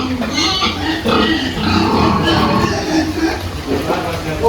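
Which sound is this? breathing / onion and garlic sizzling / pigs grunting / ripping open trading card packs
pigs grunting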